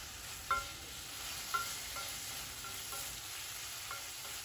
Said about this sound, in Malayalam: ഉള്ളി നന്നായിട്ട് വഴന്ന് കളറ് മാറി വരുമ്പോൾ രണ്ട് തക്കാളി നീളത്തിൽ മുറിച്ചിട്ട് ചേർക്കാം തക്കാളി ചെറുതായിട്ടൊന്ന് വേവിച്ചെടുക്കാം